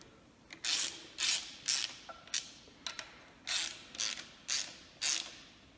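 Ratchet with an extension tightening engine head bolts, several bursts of rapid clicking in quick succession, close and fairly quiet, alone without talk.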